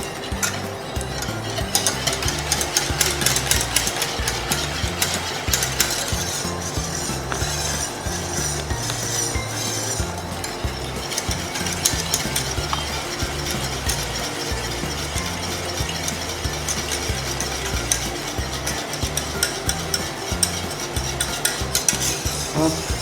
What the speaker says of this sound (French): en mélangeant partout dans ma casserole, je vais porter tout ça à ébullition pour avoir un bel épaississement